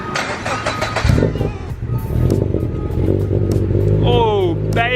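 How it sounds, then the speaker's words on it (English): A car's exhaust with the engine running, a loud low rumble with throaty revs close by, partly under excited voices and a passing chirp near the end. "Let's hear this exhaust."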